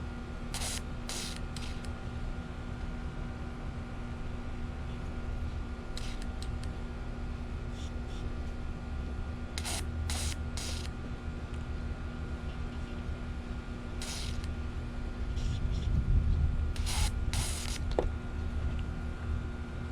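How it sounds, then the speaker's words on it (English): Cleaner sprays through a Honda S2000 fuel injector during track prep. Several short, hissing bursts come in quick pairs and clusters over a constant mechanical hum. "just run this cleaner through it a couple times, just to go ahead and make sure the inside of this is all cleaned up"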